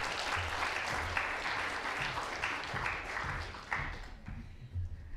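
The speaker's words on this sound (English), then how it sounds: "Come on, do that weird thing with your hands and clap." Audience applause at a live science debate, steady clapping across the whole stretch with a few louder bursts near the end, no talking over it.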